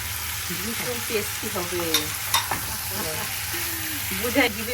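Beef liver frying in a pan at home, stirred with a utensil; a steady close sizzle runs throughout under scraping strokes, while a voice and faint background talking come and go.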